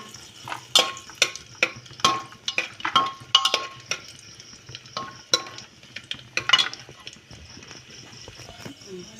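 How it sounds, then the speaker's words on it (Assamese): Cashews and raisins being stir-fried in a pan with cardamom, a spatula scraping and clinking against the metal in irregular close strokes, with a faint frying hiss beneath. "দি এতিয়া মই অকণমান লৰাই ভাজি ল'ম।"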